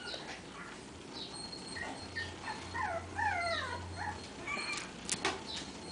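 Cavapoo puppies whimper and yip in thin, high, wavering cries over a low background hum, faint and close, in repeated short bursts.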